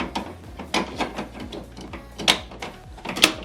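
Small plastic clicks and scraping as an ink cartridge is pushed into an HP DeskJet 2810e printer, a series of close, crisp taps and snaps with a low background hum.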